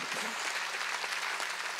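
A church congregation at a Wednesday worship service bursts into steady, dense applause, a continuous wash of many hands clapping together filling the hall.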